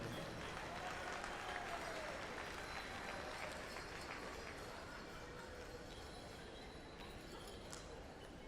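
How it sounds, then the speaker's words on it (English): An audience at the 2018 Gathering of Nations powwow applauds a teen versus men's traditional dance special, a faint, distant wash of steady clapping and crowd noise that lasts the whole stretch. "Give a round of applause for Crazy Spirit"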